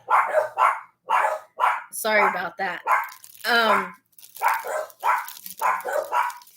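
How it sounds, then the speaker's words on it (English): Dogs bark in a series of sharp, repeated bursts, close by, with a person speaking briefly in between. "The dogs are barking."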